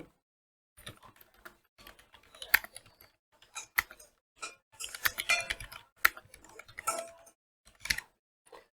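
Bursts of typing on a computer keyboard while writing in MS Word, quiet close clicks in uneven clusters with short pauses between.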